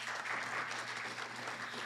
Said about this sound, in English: Can we just have a round of applause for our entire panel?